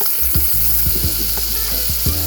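Oil and butter sizzle loudly in a pan while asparagus is cooked, a close, dense crackle broken by sharp popping spatters and scraping clicks throughout.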